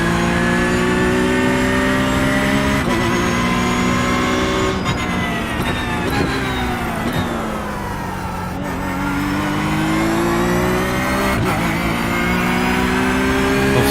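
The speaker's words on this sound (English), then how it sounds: "Notice how I'm short shifting on all the gears." A Porsche 911 GT3 R race engine in iRacing at Bathurst, loud and steady, rising in pitch through each gear and dropping sharply on early upshifts, with brief dips and recoveries throughout and no talk.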